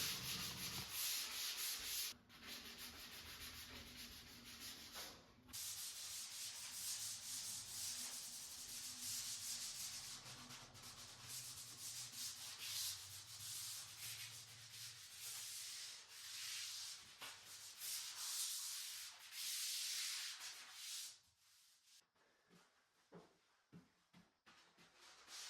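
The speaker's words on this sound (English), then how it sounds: "I like to pass over everything with a sanding sponge just to make the finished product a little" A sanding sponge rubs back and forth over wood surfaces in a house renovation, giving a steady, close, scratchy hiss for about twenty seconds before it breaks into short separate strokes near the end.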